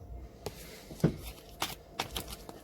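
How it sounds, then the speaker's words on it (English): A deck of reading cards is shuffled half and half, giving soft, scattered riffling taps and flicks, quiet and close, with no talk. "shuffling them sometimes can be, I'm going to do half and half because that'll be easy"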